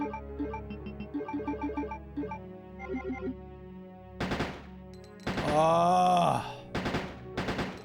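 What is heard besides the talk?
rapid gunfire in the video game Resident Evil 2 N64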